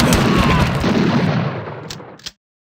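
A rifle shot in the horror adventure game Harvester: a loud, booming blast with a long rumbling decay that fades out, followed by a couple of small clicks before silence.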